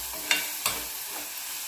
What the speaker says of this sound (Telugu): ఇప్పుడు పసుపు వేసుకొని అంతా కలిసే వరకు కలుపుకోవాలి.